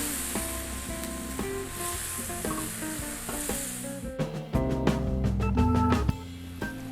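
Three-cup chicken stir-fries in a wok just after wine is added, a loud constant sizzle with scraping stirs and clanks, the hiss surging midway as the pan is worked, no voices.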